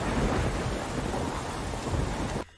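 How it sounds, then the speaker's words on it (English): Heavy rain pouring with a low thunder rumble during a night storm in a film, a dense steady wash of sound that cuts off abruptly near the end. "You're going over there in a bloody storm in the middle of the night."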